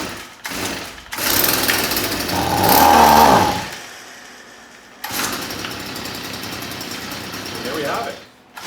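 Stihl FS55 gas string trimmer, previously broken and not starting, being choked and pulled over, then its small two-stroke engine buzzes loudly and runs up before dropping and running on steadily, close by, with a voice talking over it.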